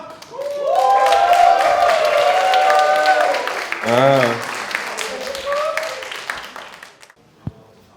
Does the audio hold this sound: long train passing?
no